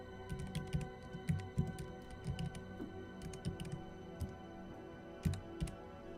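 Computer keyboard typing in irregular bursts of quick key clicks with short pauses between runs, fairly close and moderately quiet, with no talking.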